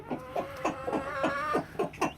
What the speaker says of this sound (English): 6 of them are Rhode Island Red hens.